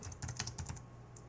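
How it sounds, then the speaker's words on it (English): Quick keystrokes on a computer keyboard, a close burst of about eight or nine soft clicks in uneven rhythm, then a brief pause and one last tap, no talking. "just use your keyboard to change it"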